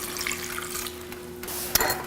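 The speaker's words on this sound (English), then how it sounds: "Pour in 1/2 cup of water." Water poured into a pot for blackberry sauce with sugar, a soft continuous splashing and trickling, fairly quiet, with a small clink near the end and no talk.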